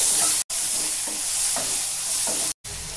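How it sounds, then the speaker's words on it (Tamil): Tomatoes sautéing in a pan for a Tamil egg curry, a loud, steady close sizzle with stirring scrapes of a spoon on the pan, briefly cut off twice. "இப்போ நல்லா வதக்கி விடுங்க"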